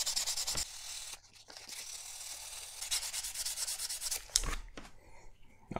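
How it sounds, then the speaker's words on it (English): Sanding rust off a Peugeot 103 moped variator by hand, steady rapid back-and-forth rasping strokes, close and fairly quiet, with brief pauses between passes. "I sanded the whole part"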